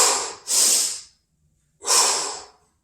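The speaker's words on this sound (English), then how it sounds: "inhale at the top, squat, no breathing, get to the top, exhale" Two forceful, hissing breaths during a dumbbell front squat, each a loud close exhale or inhale lasting about half a second, separated by a short silent pause.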